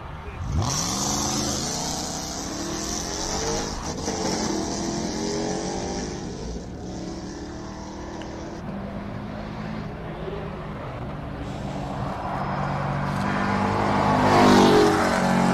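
A race car at Simola Hillclimb launches hard and accelerates, its engine howling up through the revs in rising sweeps and gear changes, loud and close at first then fading slightly before building again, with a commentator talking over it.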